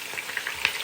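Onion fries in a pan with a bright, crackling sizzle and small popping spits, close and steady over a brief moment.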